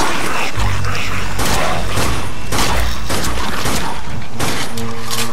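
A zombie's dropped grenade blows up in Dead Nation, a loud booming blast with crackling debris amid continuous heavy gunfire and thuds in a dense, saturated game mix.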